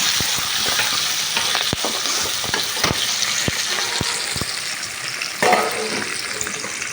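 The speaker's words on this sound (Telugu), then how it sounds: "మెంతాకు ఫ్రై చేసుకోవాలండి" Fenugreek leaves fry in oil over browned onions for a vegetable soya dum biryani, giving a steady close sizzle broken by regular sharp scrapes and taps of a spatula against the pan.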